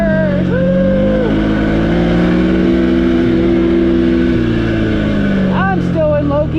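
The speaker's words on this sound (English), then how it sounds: "And it takes off. Oh, we're roasting the tires!" Can-Am Outlander Pro HD7 side-by-side pulling away in low gear and spinning its tires, the engine droning and rising steadily up close while people talk and cheer over it.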